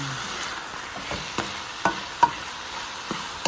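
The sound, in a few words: sautéing onions in a pan for sotanghon soup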